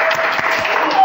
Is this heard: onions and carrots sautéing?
no